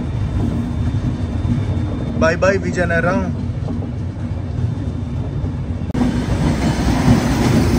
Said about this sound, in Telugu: విజయనగరం జంక్షన్ నుంచి మన ట్రైన్ అయితే బయలుదేరిపోయింది